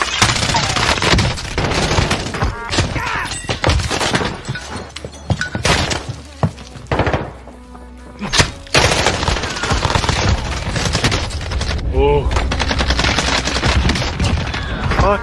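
Gunfire in the video game Call of Duty Warzone, including a pistol, comes as loud, dense rapid bursts with crashes and impacts and one brief lull, mixed with busy game sound.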